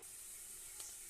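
Radish slices frying in oil, a faint, steady hiss of sizzling throughout, heard alone with no talk.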